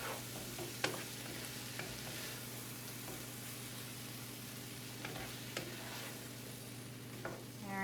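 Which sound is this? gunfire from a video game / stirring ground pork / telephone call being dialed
stirring ground pork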